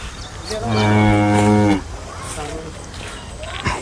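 A single loud, drawn-out moo with a rich low tone from a Holstein Friesian cow for sale, followed by murmuring voices and background chatter.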